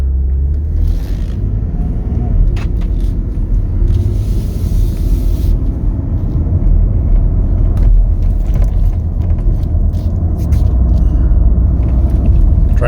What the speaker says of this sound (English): let's go ahead and take it for a spin.